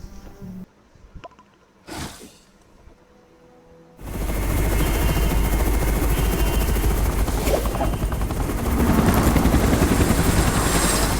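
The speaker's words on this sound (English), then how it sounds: "Take the helicopter." Helicopter in the video game Undawn starting up and holding a loud, steady rotor and engine roar, preceded by a few quieter thumps and bumps before it kicks in abruptly.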